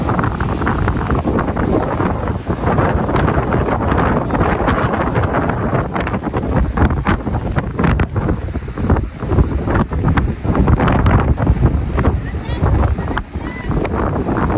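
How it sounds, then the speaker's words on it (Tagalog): Strong ocean waves crash and churn in a loud, continuous broadband roar, heavily buffeted by wind on the microphone throughout. "Ang lakas ng ano, alon."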